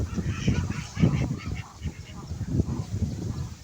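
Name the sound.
ducks in a pond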